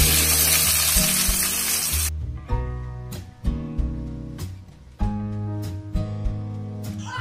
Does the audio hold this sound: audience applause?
no